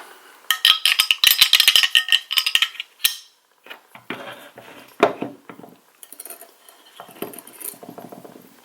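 Metallic clicks, rattles and clinks of a custom Sig Sauer pistol in 22 TCM being reassembled, with a sharp snap midway and lighter tapping afterward.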